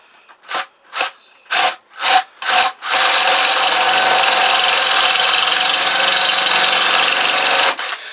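Several short drill bursts start and stop in a rhythm, then the drill runs continuously and loudly for about five seconds into a metal Kawasaki GPZ500S engine part.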